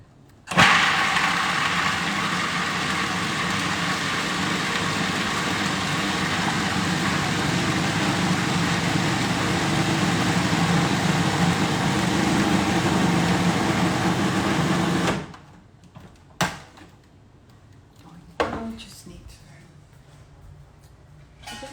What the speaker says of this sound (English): I'm using the Magic Mix today